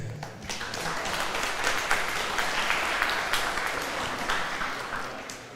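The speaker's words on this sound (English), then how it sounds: "Please give applause." Applause from a seminar audience on AI ethics and smart cities, a steady wash of clapping from a moderate crowd that swells and then tapers slightly toward the end.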